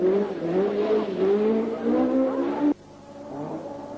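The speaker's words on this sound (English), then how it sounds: "gives the new fuel-injected VDA Allied Polymer Escort its first taste of English rallying" Fuel-injected Ford Escort rally car on an English rally in 1978, its engine howling loudly and close as it revs through the gears, then dropping abruptly to a quieter, more distant drone.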